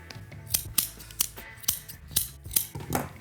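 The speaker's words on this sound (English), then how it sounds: "The last thing I'm gonna do is just trim off all of these extra strings." Scissors snip repeatedly at the extra strings of a large yarn pom pom garland, about a dozen crisp close cuts in an uneven rhythm with no talking.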